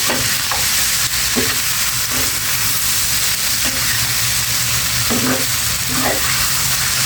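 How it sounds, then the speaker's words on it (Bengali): Pangas fish and potato pieces frying together in a pan give a loud, continuous sizzle, with spatula scrapes and taps recurring every second or so as they are stirred. "দেখো মাছ আর আলু একসাথে নেড়ে চেড়ে নিচ্ছি"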